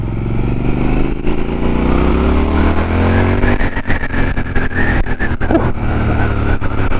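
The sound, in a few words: Triumph Scrambler 1200 XE motorcycle engine riding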